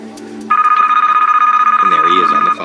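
A telephone rings loudly in the Deal or No Deal PC video game, a rapid trilling electronic bell held for about two seconds, with someone talking underneath near the end.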